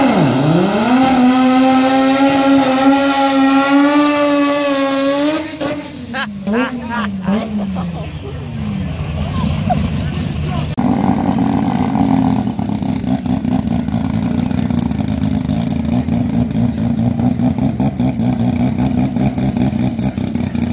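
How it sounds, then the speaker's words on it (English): A Coyote V8-swapped Mustang notchback revs and settles into a loud, lopey idle from its aggressive cam, close up, with people talking over it. "Sounds like a Camaro cam."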